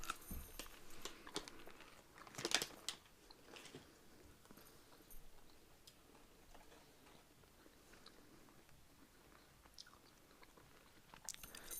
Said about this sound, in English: I'm going to try the chewing gum now just to finish off